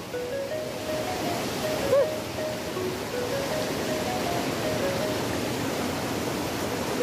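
A swollen stream crossed on a group motorbike ride in Nepal: constant broadband rushing of water, loud and steady throughout, with no clear voices over it.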